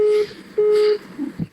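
Telephone dialing tones sound on a phone placing a call, a few sustained beeps separated by short gaps, loud and close, with faint voices in the background.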